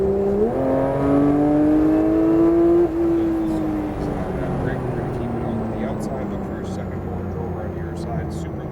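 A Porsche accelerates hard on a race track, its engine note rising steadily and loud up close, then holding a sustained drone as it settles, with a driving instructor's voice talking over the engine throughout.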